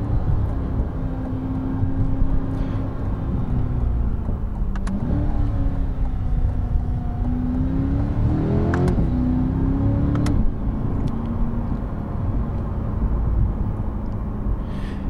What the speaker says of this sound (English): You do get a good amount of engine noise in the cabin.